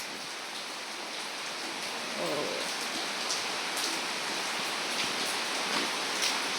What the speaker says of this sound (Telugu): వర్షము పెద్ద వర్షము ఇంట్లోకి వస్తుంది